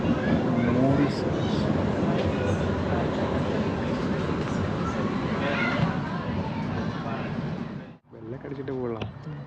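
A train in Edinburgh, Scotland, gives a loud, continuous rolling rumble with voices murmuring throughout. The noise drops out abruptly for a moment near the end, then resumes more quietly.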